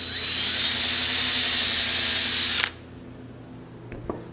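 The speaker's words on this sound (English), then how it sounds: "we're gonna drill a little pilot hole in the bottom" A power drill bores a small pilot hole into the base of a wooden DIY Christmas tree, a loud steady high whine for about two and a half seconds that cuts off sharply, followed by a couple of faint knocks.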